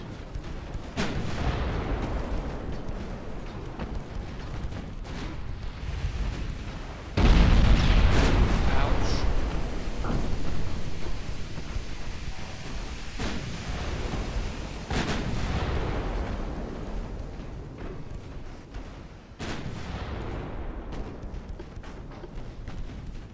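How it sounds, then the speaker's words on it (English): Naval guns boom in a Ultimate Admiral Dreadnoughts sea battle, with an ammo detonation among them: a string of deep, distant blasts and rumbling explosions, one especially heavy, spread through a low steady battle din. "Got an ammo detonation, that's big."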